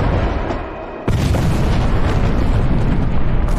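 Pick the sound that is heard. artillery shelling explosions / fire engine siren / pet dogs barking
artillery shelling explosions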